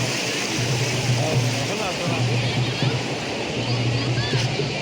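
Chaparai waterfall makes a dense, steady roar of rushing water that fills the whole scene up close, with people talking over it.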